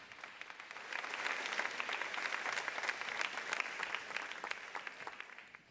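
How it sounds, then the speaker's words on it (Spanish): A church congregation claps after the reading of the Word, dense, lively applause with crisp individual claps standing out, building in the first second and holding steady before easing off. "Dele un fuerte aplauso a la palabra de Dios proclamada en este lugar."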